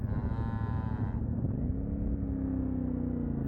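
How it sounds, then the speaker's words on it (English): Black cattle on an outback road at night low out a long, deep moo close by, over the steady rumble of a CFMOTO 450MT motorcycle idling on the roadside. "Those cattle were completely invisible in the dark."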